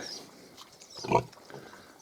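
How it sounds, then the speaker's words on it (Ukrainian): A Hungarian Mangalica sow lies with her young piglets, giving a single short grunt near the close mic amid soft rustling and faint background noise. "якраз мамка свиня лягла кормити своїх маленьких поросяток"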